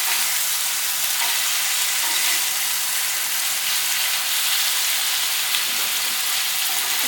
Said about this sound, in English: that's the problem with frying bacon, because there's a lot of grease